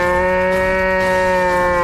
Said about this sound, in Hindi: एक गाय ने जोर से रंभाया